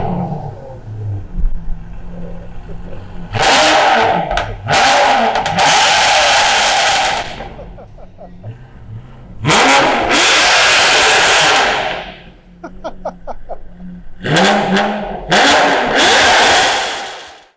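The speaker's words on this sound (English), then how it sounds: "I've never heard an Aston Martin V12 that sounds like that" A straight-piped Aston Martin V12 starts and then revs hard in repeated high-pitched bursts, loud and close, with a rough idle settling between each rise.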